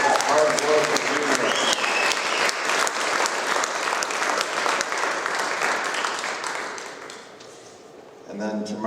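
Hall audience at a log building conference gives sustained, dense applause that gradually thins and fades, then a voice starts talking as the clapping ends.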